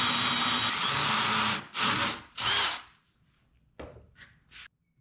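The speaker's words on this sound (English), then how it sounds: "I take a 3/8 inch drill bit and drill a through hole for the threaded insert." A power drill with a 3/8 inch bit whines steadily as it bores a through hole in wood, then stops; a few short follow-up bursts of drilling come after a brief pause.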